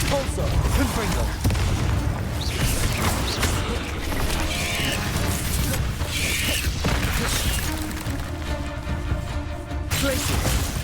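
Confringo fire spell detonating in the wizard combat of Hogwarts Legacy, a steady barrage of dense booms and crashes mixed with game effects, loud throughout.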